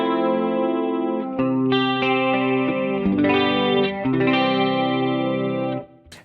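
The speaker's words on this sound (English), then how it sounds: "So in this sound here, I've got a chorus sound I can add to it." Bass played through a Fractal AX8 multi-effects unit with a chorus effect, warm low notes with shimmering, wavering overtones changing every second or so, loud and alone, fading out at the end.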